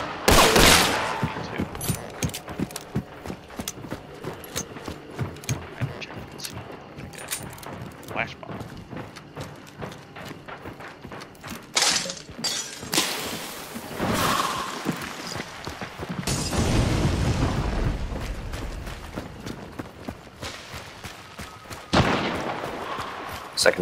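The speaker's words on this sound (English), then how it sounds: "Just firing through the wall." Rapid bursts of gunfire fired through a wall in a shooter game, loud repeated cracks in irregular clusters across the stretch, with a voice talking over and between the shots.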